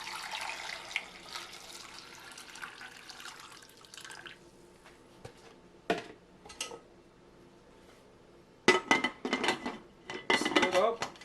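Water splashes and pours into a pressure cooker holding jars of homemade applesauce, followed by clinks of metal and glass as the pot is handled, with bursts of dripping and clattering near the end.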